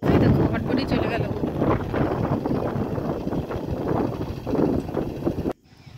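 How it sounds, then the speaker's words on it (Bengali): A motorised country boat (bhotbhoti) passes on the Ganges with a loud, steady engine rumble. Wind buffets the microphone throughout, and the sound cuts off abruptly near the end. "ভটভটি নৌকা, ভটভটি নৌকা যাচ্ছে"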